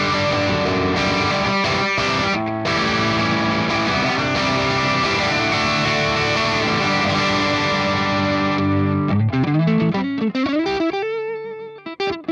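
Electric guitar played through an ML Dizzy V30 amp, a loud, sustained distorted chord ringing out before a few quick, choppy picked notes at the end.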